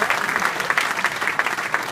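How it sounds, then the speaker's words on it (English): An awards dinner audience claps steadily in a dense, continuous round of applause that fills the room. "Big round of applause for them"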